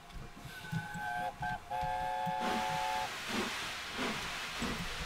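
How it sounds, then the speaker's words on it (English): Tornado's steam whistle in Train Simulator 2017 gives a few short chord toots and then one long sustained blast. A loud rush of hissing steam follows, with no voices. "That is one good whistle in my mind."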